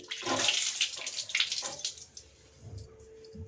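Two beetroots are scrubbed under running water, splashing and gushing loudly at first in uneven bursts, then easing into quieter trickles and drips.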